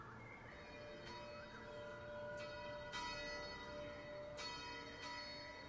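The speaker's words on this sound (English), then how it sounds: "The bell's ringing." A bell tolls far off, its rich ringing overtones hanging steadily in the air with fresh strikes landing roughly every second or two, faint and distant with no voices nearby.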